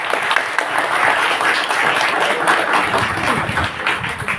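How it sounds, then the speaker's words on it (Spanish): An audience applauds at a book presentation, a dense, loud and steady wash of many hands clapping that carries on without a break. "Lo recibiremos con palmas."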